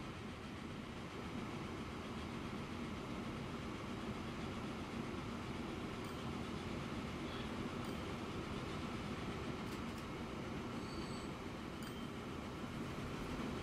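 Train running in Transport Fever 2, a steady faint rolling rumble of wheels on track with occasional light clicks, continuous throughout.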